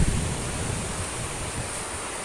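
High river water in the rainy season being diverted, a broad steady rush of flowing water, close and continuous with no talk.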